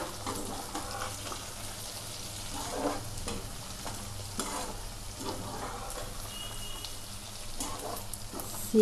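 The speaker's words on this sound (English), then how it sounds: "Stir them again." Onions frying over a low flame in a pan, stirred in quiet scraping strokes over a soft, gentle sizzle, with light irregular clicks and no speech.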